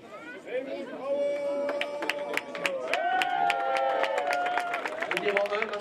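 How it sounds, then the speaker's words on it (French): A crowd at the 2012 Mauritius Marathon applauds the race participants, with scattered claps under someone talking and general crowd chatter. "Donc on peut quand même vous applaudir,"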